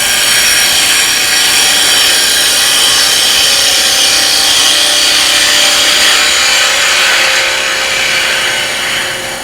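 A lathe tool takes a shaping cut on a spinning wooden tea light holder, giving a loud, continuous hissing scrape that holds steady and eases off slightly at the end.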